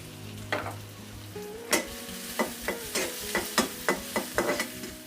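Chopped onion frying in melted butter in a pan, a steady low sizzle broken by a run of sharp, rhythmic scraping strokes as it is stirred, close and fairly loud with no voices.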